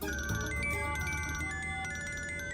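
An incoming-call ringtone plays from a phone inside a petrol car, a steady melodic tone repeating close and clear for a couple of seconds with no talking over it.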